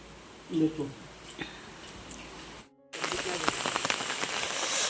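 Steady rain pattering on a surface, with a brief voice early on, a short gap, then the rain returns louder and denser.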